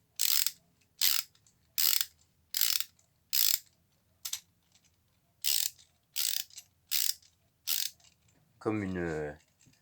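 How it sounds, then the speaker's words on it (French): A hand ratcheting screwdriver used like a socket wrench clicks in about ten evenly spaced bursts, close and clear in a quiet room, followed by a brief final sound with a tonal, voice-like quality. "vraiment comme une clé à cliquer."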